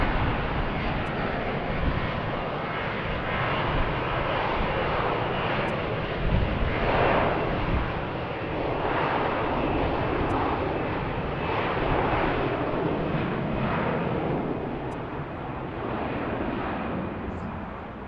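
Loud Frontier airliner departing from Baltimore airport, a long steady engine rumble that swells and fades slightly, heard alone, with faint periodic radio clicks.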